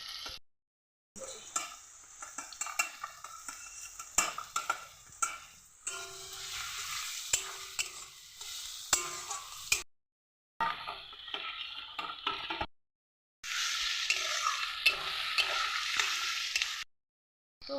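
Maggi chow mein being stir-fried in a pan with chopped tomato and cabbage: bursts of sizzling and scraping stirring, broken by short silent gaps, fairly quiet and with no voices.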